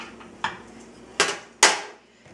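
A skillet set down on a kitchen stove gives a few sharp metallic clanks with a short ring, close and fairly loud against a quiet room.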